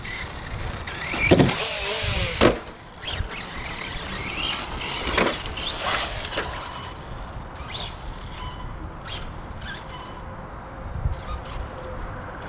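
An Arrma Infraction Mega RC car running on 4S power at a ramp bash, its electric drive whining in sharp rising bursts with brief clatters, strongest early and then settling into a steadier, fainter whir.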